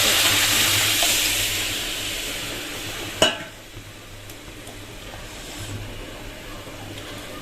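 Dal tipped into a pan of fried onion and garlic, with a steady broadband sizzle, one sharp clatter partway through, then quieter stirring and bubbling.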